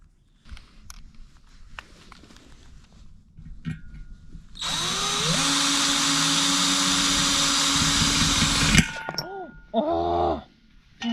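Cordless power drill driving screws into fence boards during a backyard fence installation, a loud sustained run of several seconds with rising motor whine, preceded by scattered clatter and followed by short bursts.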